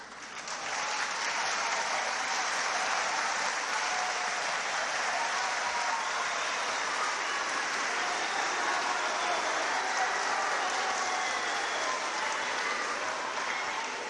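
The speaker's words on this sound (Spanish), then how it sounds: "es costumbre que el aplauso viene al final" Sustained applause from a large audience at a gathering for Pope Francis at a seminary school in Trujillo, steady and dense clapping throughout with no speech.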